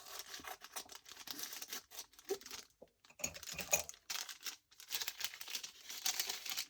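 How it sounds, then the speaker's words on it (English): Scissors snipping through paper nearby, with crinkling and rustling between cuts and a brief quiet gap midway. "Just cut that with some scissors so it's not straight."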